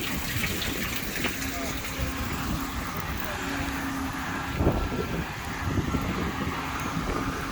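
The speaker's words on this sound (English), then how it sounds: "Now all that water that's pumping, it's going right down in this hole." A continuous rushing gush of pumped water pouring steadily into an excavation hole for a watermain, broadband and close, with wind buffeting the microphone and no clear breaks.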